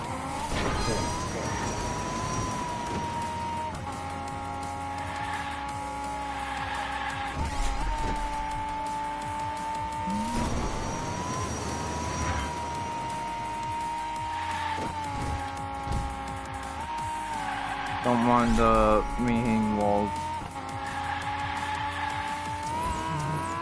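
Cars drifting in a Hot Wheels video game, steady engine drone with repeated rising tire squeals and skids over a running music bed, one sharper screech burst near the end.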